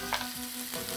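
Green chillies drop into a sizzling pan of green chicken curry, giving a brief steady frying hiss with a soft burst as they hit the hot oil.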